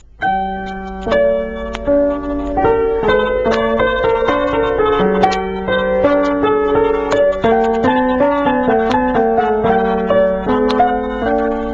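Solo keyboard plays three interweaving melodic lines, one voice echoing another's phrase, in a steady, flowing contrapuntal texture.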